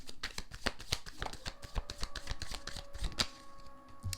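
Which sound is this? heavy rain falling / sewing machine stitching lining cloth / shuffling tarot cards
shuffling tarot cards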